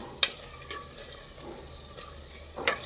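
Chicken pieces fry in a pan for a burger filling, a soft steady sizzle broken by a few sharp utensil clinks.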